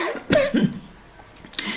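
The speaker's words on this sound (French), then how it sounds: "il y a aussi que je tousse" A person coughs sharply twice in quick succession, then gives one more short cough after a brief pause, close to the listener.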